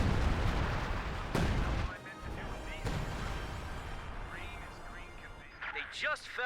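Heavy artillery shelling in a Company of Heroes 2 battle, with dense low rumbling blasts and sharp crashing impacts layered into a loud, continuous wartime din, plus brief whistling tones near the end.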